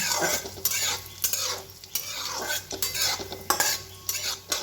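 Cashews and almonds lightly roasting in a pan, stirred with a utensil: repeated scraping and clinking strokes over a faint sizzle, close and alone with no talk.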